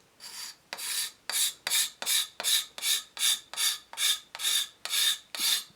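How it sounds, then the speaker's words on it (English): A steel card scraper drawn over old finish on a wood surface during a Keen Kutter K4C restoration, giving twelve evenly spaced rasping strokes, each a short bright scrape with brief pauses between, close and clear with no talking. "So to start off, I've got a card scraper"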